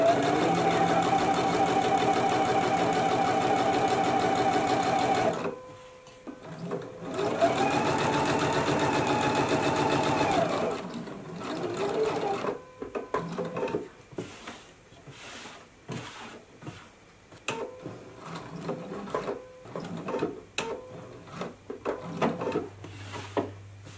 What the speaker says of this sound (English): I'm gonna go to the machine and I'm gonna do an edge stitch right along the folded edge